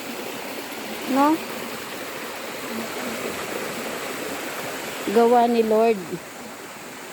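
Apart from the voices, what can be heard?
natural spring water flowing from the mountain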